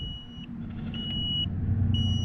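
An LCD solar tire pressure monitoring system in a car gives a few short, high electronic beeps spaced about half a second apart over a low, steady engine rumble.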